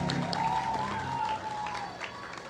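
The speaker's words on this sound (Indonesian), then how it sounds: "tepuk tangan yang meriah buat kita semuanya" Faint applause from a crowd at a PDIP political speech during a Bung Karno wayang event: distant, scattered clapping at low volume, with a thin sustained tone running through part of it.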